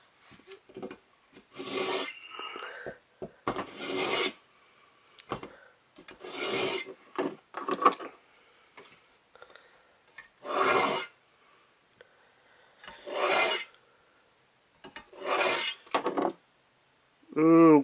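A sword blade drawn through a Sharp N Easy 2-step handheld knife sharpener, giving about seven separate rasping strokes with short pauses between them, close and fairly loud, with no talking.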